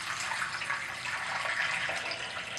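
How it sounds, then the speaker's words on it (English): Water pours steadily into a pot, a continuous splashing hiss at moderate volume with no talking. "we're just gonna pour in some water"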